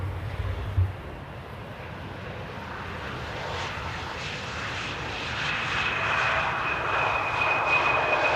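A jet airliner approaches Amsterdam Airport at sunset, its engine roar swelling steadily from a distant rumble to a louder, closer whine over several seconds.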